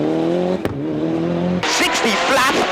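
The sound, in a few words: four-wheel drive Group A rally car accelerating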